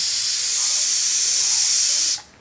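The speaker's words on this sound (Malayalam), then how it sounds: "അവിടെ കുക്കർ കുക്കണുണ്ട് കണ്ടോ" A loud, continuous hiss of steam rushes from a pressure cooker, then cuts off abruptly near the end.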